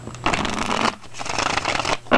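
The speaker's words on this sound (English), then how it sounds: "I love shuffling the cards." Tarot cards are shuffled close up in a steady run of rustling, riffling bursts with brief pauses between passes, and no voices over it.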